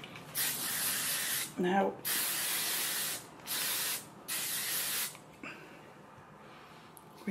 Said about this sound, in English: we hairspray it